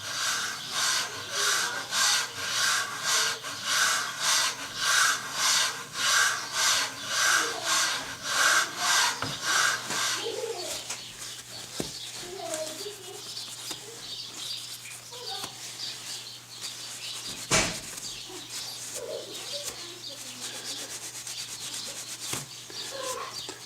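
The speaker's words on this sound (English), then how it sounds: "now we're going to lap these bases in place" Aluminum scope rings mounted on bases for a Savage Mark II BTVSS .22lr are lapped with a lapping rod, giving a steady rhythmic back-and-forth rubbing for about ten seconds, then quieter scattered scraping and handling sounds.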